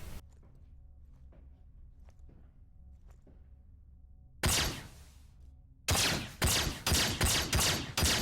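A gun fires in the Star Citizen video game, one sharp loud burst followed after a pause by a rapid string of shots, all preceded by faint scattered clicks and footsteps.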